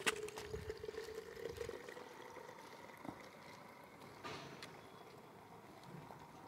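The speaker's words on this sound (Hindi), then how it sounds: "ये देखो सीधा हमने पानी भर दिया" Water pours into a foam cannon bottle as a steady, faint splashing and trickling over a noisy background, with a few soft knocks along the way.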